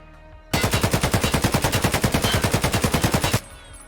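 An AKM rifle fires 7.62x39 PS rounds in the video game Escape From Tarkov: one loud, sustained full-auto burst of about three seconds, with rapid, evenly spaced shots that stop abruptly.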